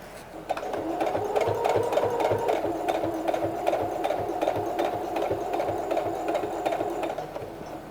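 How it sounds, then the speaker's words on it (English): A sewing machine stitches pockets onto the main compartment of a fabric bag, a steady, rapid mechanical chatter with a humming motor running continuously for several seconds at close range, with no talking. "I gotta sew these pockets onto the main compartment is the next step"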